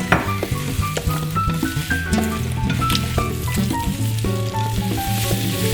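Carrots and peppers stir-frying in butter in a pot, a steady close sizzle with soft stirring scrapes, while background music plays underneath.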